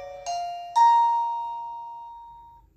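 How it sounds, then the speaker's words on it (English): A Blurams 2K wire-free video doorbell chime plays a clear two-note ding-dong, the second tone ringing out and slowly fading over about two seconds in a quiet room. "they press your doorbell."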